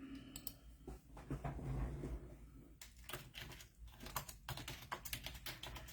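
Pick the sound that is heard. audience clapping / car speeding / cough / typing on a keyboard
typing on a keyboard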